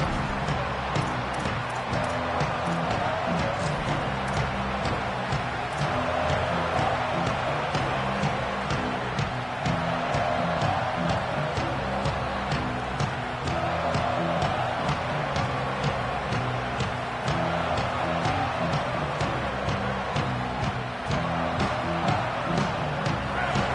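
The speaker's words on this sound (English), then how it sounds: "This crowd trying to show them what it's going to be like all day in this house." A packed football stadium crowd roars continuously before an Alabama game, a dense, steady wash of cheering and noise held at moderate loudness, with faint talk now and then.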